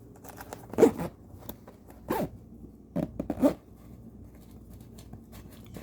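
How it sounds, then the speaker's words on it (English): A zipper on a Rock Bros 1.7L bicycle saddle bag being pulled in a few short, close rasping bursts, with quiet pauses between strokes. "it'd be nice if I could hold the bag and zip it"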